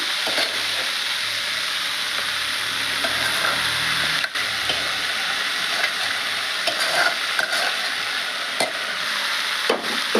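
Boiled moong dal and curry leaves stir-frying in a pan, a steady sizzle with scraping stirs and occasional clicks of the spoon, close and continuous without any talk.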